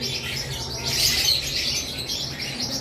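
Green Fischer's opaline lovebirds in a bird shop, a dense chorus of shrill chirps and chatter, constant and close with a louder flurry in the middle, no talk.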